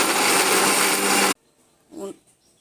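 A kitchen blender grinds soaked chana dal into paste in one loud, dense burst lasting just over a second, then stops abruptly, leaving near silence and a brief faint clatter.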